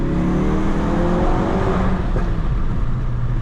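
A 2017 Ford Focus RS with the 350 hp 2.3 EcoBoost engine accelerates hard, a loud, close, steady engine roar that climbs in pitch through the gear, heard from inside the car.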